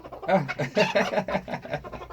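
A rooster calling hens to food makes rapid, soft clucking calls close by, a quick chattering series of throaty notes.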